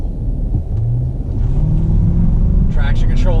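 A Chevy Silverado Z71 pickup launches hard from a standstill with traction control off, its engine rumble rising in pitch as it gathers speed, loud and close from inside the cab, with faint speech near the end.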